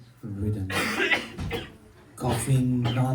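An old man in a kids' skit coughs hoarsely in short bursts, close and loud, with voiced groaning sounds between the coughs.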